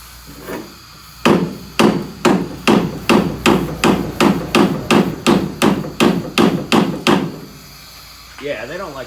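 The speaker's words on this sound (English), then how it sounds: "Grab a hammer." Hammer blows on a rusted leaf spring shackle under a Chevy truck bed, roughly sixteen sharp metallic strikes in a steady, evenly spaced rhythm, loud and close, with brief quiet before and a voice speaking after.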